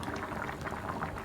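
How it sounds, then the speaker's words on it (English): Pot of cabbage rolls stuffed with minced meat and rice boiling steadily, a continuous close bubbling and gurgling with no pauses. "the cabbage is boiling away"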